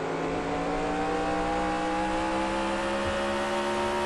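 NASCAR stock car engine in NASCAR Racing 2003 at Stafford Speedway, a steady high droning roar held at near-constant pitch throughout.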